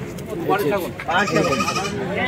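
A mother goat with her twin kids bleats in quavering cries at a busy traditional rural livestock market, the calls close by and mixed with steady crowd chatter and people talking.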